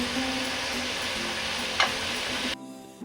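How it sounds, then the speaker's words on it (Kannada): Peas, beans and potato frying over high heat in a pan, a steady close crackling sizzle with stirring, one brief scrape near the middle, before the sizzle drops away abruptly near the end. "ಇವಾಗ ಉರಿ ಜೋರಾಗಿಟ್ಟು ನೀಟಾಗಿ ಅಷ್ಟನ್ನು ಫ್ರೈ ಮಾಡ್ತಾ ಇದ್ದೀನಿ"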